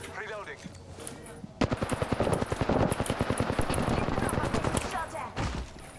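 Sustained automatic gunfire in the battle royale game Apex Legends hammers out as a rapid, loud stream for several seconds, with voices talking underneath.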